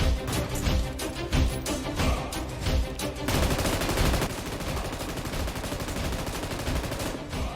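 An M249 machine gun fires in PUBG Mobile in loud rapid bursts, with sharp repeated shots for the first few seconds, then a denser sustained roar of gunfire that continues to the end.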